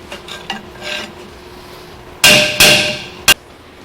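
A big screwdriver works on a 1996 Chevy 1500 pickup, giving faint scraping at first, then two loud ringing metallic strikes close together and one short sharp clank at the end.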